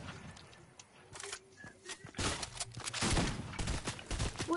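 Scattered gunshots from the Fortnite shooter game, a few isolated cracks at first, then a dense burst of rapid shots and impacts, fairly loud and close.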